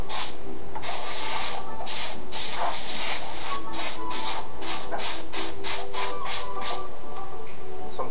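An airbrush sprays paint onto a shirt in a string of short, sharp hissing bursts, near and loud, repeating in quick succession toward the end.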